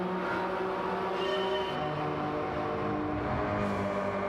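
A Suzuki 1.5 liter engine in a racing video game holds a steady, sustained drone with smooth harmonic tones, revving slightly through the lap, loud and continuous with no talk.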